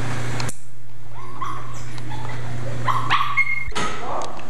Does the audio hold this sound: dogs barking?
yes